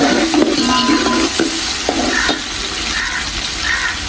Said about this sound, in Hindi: हम प्याज ऐड करेंगे इसमें। अब घी हमारा गर्म हो चुका है और इसको अच्छी तरह हम इसको ब्राउन करेंगे।